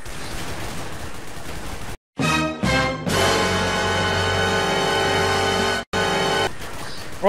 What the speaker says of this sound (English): I'm shooting at you!